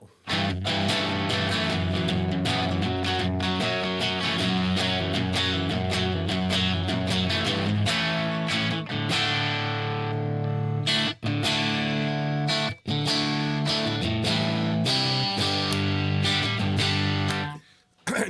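Electric guitar played through an amp with the distortion set low, so it sounds close to clean; steady chords and notes ring out continuously for about eighteen seconds with only brief gaps.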